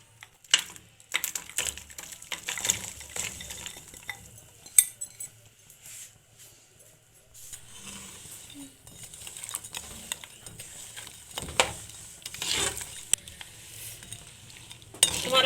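A utensil stirs jaggery dissolving in about a litre of water in a pot. Quiet, irregular clinks and scrapes come in bursts with brief near-silent gaps.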